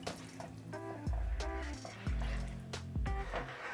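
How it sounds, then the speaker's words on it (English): Water splashes in short pours into a pan of liver and onion gravy, three distinct gushes at a close, moderate level with quiet pauses between them and no talk. "we will gradually add this in here. Yeah, 2 cups of water."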